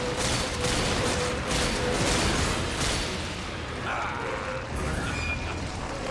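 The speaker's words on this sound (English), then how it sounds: "I'm shooting him." Gunfire in the video game Resident Evil 5 during a final boss battle, a dense continuous barrage of shots and loud game action filling the whole stretch, with a voice briefly in the mix.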